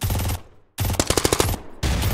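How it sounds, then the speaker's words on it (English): Bursts of MAC-10 submachine gun fire in a multiplayer video game: two long, loud rapid-fire strings with a short pause between them and a third burst starting at the end, with no talk over it. "It's a MAC-10, the most accurate gun ever."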